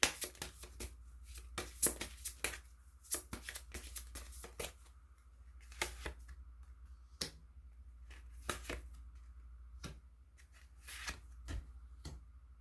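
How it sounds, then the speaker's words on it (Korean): Tarot-style advice cards shuffled and drawn for a reading, heard as soft, close riffling flicks and taps that come in irregular clusters over a quiet room. "그렇다면 조언점 카드 뽑아보도록 할게요."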